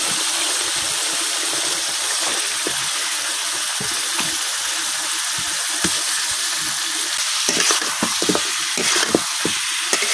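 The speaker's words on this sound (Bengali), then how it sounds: "এখন এই তরকারি দিয়ে দেন মাছের মাথাটা।" Pangas fish head frying in oily spice paste, a loud continuous sizzle close by with repeated scraping stirs and knocks of the spoon against the pot growing busier toward the end, no voices.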